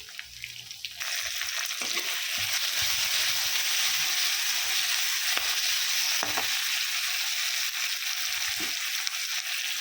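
Tomato, garlic, ginger and chilli frying in a pan for a paneer gravy, a steady close hiss and crackle of oil after a quiet start, with a few soft stirring knocks and no talking.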